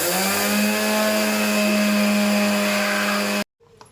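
A kitchen mixer grinder whirs steadily at high speed, grinding roasted barnyard millet into powder in its jar, a loud continuous motor hum with a faint rattle that stops abruptly near the end.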